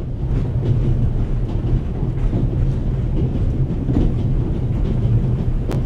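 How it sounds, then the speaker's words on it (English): A train in The Raven - Legacy of a Master Thief, played on Xbox 360, rattles and shakes with a steady, loud, low rumble and rolling clatter that fills the whole stretch without a break. "One is close to the brink of insanity with this constant shaking and rattling."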